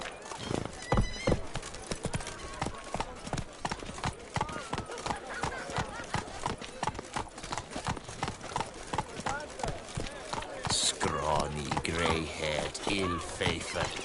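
Geralt's horse Roach gallops in The Witcher, with a rapid, close clip-clop of hooves throughout and a neigh partway through, under continuous talk.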